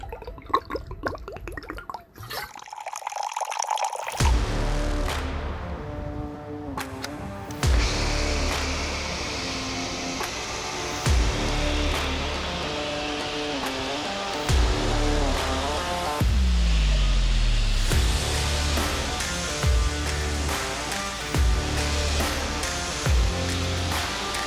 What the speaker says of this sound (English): On top of that goes the Tino blue snow foam.